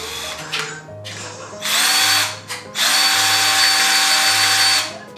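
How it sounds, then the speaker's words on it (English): A handheld power drill whirs in several short bursts, speeding up and cutting out between runs, close and fairly loud, with faint background sounds in the pauses. "But look, we got the official Tim the Two Man Taylor drill"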